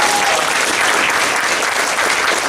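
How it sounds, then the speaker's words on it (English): Audience at a middle school winter play applauds, a dense, loud, sustained roar of clapping filling the auditorium with no breaks. "Let's give them a round of applause."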